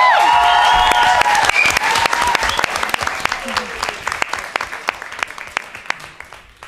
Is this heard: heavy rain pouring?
no